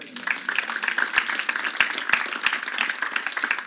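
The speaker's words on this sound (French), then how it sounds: "Est-ce que tu peux applaudir cela ?" A church congregation in Marne-la-Vallée applauding: steady, dense clapping from many hands throughout, fairly close and continuous, with voices mixed in.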